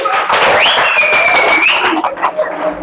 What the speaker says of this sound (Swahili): Safi sana, mpigieni makofi.